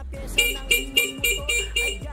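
A stock car horn sounds in a string of short, evenly spaced toots, about eight quick beeps at steady rhythm, close and clear with a steady low hum underneath.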